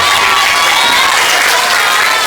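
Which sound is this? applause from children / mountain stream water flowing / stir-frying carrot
applause from children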